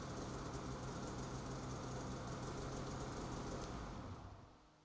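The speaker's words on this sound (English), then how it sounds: "starting the snowmobile to verify the battery has been connected properly" A 2020-2022 Polaris RMK Khaos snowmobile engine idles with a steady, rough, low drone that is faint overall and fades away near the end.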